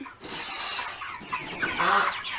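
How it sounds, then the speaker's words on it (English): Broiler meat chickens cluck and murmur close by in a short burst, several birds chattering together over a rustling background. "State of our meat chickens, and they are fat"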